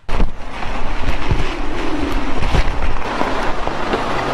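Strong typhoon wind in the Philippines roars loudly and continuously, with gusts buffeting the microphone and no speech.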